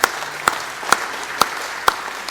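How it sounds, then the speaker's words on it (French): Audience at a strategic-affairs conference applauding in steady, evenly spaced claps, a sparse rhythmic round heard close and alone. "la salle t'applaudit et t'a félicité"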